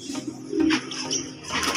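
Pigeons in a loft coo softly nearby, low throaty calls rising and fading, with a few brief higher chirps mixed in.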